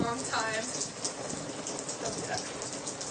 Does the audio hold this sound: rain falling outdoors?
yes